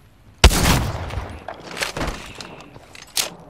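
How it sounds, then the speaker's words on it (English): Gunfire in Apex Legends on Xbox One X: one sharp, loud shot followed by a short ringing tail, then a few fainter follow-up bursts and clicks. "No, testing the gun."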